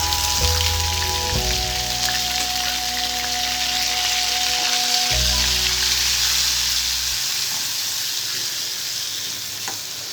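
Onion paste sizzles steadily in hot oil in the pan, the same pan used for frying ladies finger pieces, with cumin and mustard seeds, a continuous close frying hiss that fades slightly near the end, with no talking.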